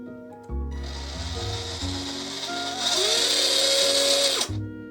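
A high-RPM 370 electric motor in a WPL RC truck with a two-speed gearbox spins up in first gear, a loud whirring whine with gear hum that rises in pitch midway, holds steady near top speed, then cuts off abruptly.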